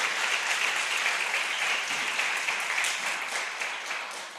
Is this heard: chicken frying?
no